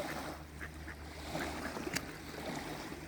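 Ducks approach along the shore of a large alpine lake, their faint quacks and calls scattered over steady lapping water and outdoor ambience, with no one speaking.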